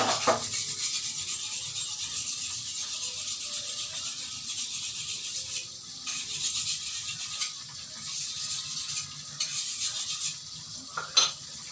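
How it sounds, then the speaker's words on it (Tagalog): Galunggong (round scad) fries in a pan with a steady hiss of sizzling, and a utensil occasionally scrapes and clinks against the pan. "habang nagpiprito para mabantayan natin yung pinirito nating galunggong"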